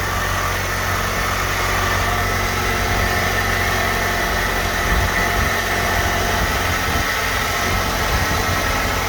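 A 2006 Hyundai Elantra, just fitted with a new valve cover gasket, idles loud and close with a steady, vibrating engine drone throughout. No voices are heard.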